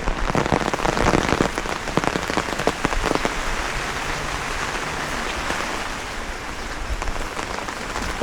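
Steady rain pours down on a hillside trail in Sindukchhari, Khagrachhari, a dense continuous hiss with scattered drop patter, fairly close and loud, with no voices.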